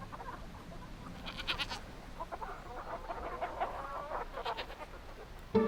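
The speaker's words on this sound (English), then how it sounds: "Gertie the goat and the hens, they were all pecking and scratching and trampling in the garden." Goat and hens moving about in a farm garden, with faint clucks and soft rustling and trampling over steady low background noise, ending in a brief louder bump.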